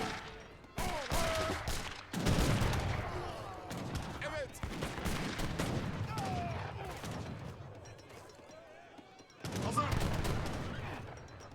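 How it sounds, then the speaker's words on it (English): Musket volleys from Age of Empires 3, with Caroleans fighting abus guns, burst in loud crackling salvos that come in waves, with a softer battle din between them. "another big volley hits the Abyss guns"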